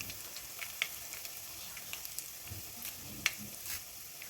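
Dried red chillies and chana dal sizzle and are stirred in hot oil in a frying pan while tempering a raw papaya thoran, giving a steady close frying hiss with scattered small crackles and pops and no talk.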